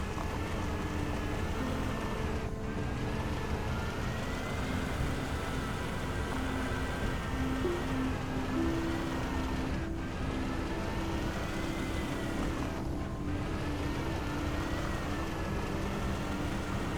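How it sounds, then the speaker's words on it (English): A tractor in the video game Astroneer drives steadily through terrain with a constant engine drone and rumbling, broadband roar, unbroken and fairly loud throughout, with a few brief dips in the sound. "It's a tractor. Surely it can get through all this."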